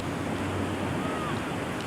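Ocean waves washing along the shore near Goleta where seawater meets a slough, a steady, loud broadband surf roar mixed with wind noise on the microphone, with no talking.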